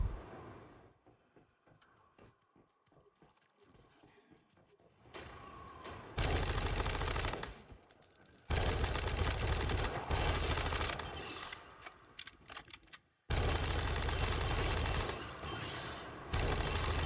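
Gunfire in the video game Once Human: scattered faint shots and mechanical clicks, then loud sustained bursts of automatic fire in several long stretches, close and dense.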